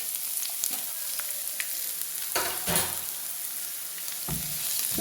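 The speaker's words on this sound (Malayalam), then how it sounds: "അതിനുശേഷം ഒരു സബോള ചെറുതായി അരിഞ്ഞത് നമുക്ക് പാനിൽ ഇട്ട് കൊടുക്കാം" Finely chopped onion tossed into a pan with curry leaves while preparing drumstick thoran: a steady close sizzle with scattered light crackles and a few louder scraping stirs midway and near the end, no voices.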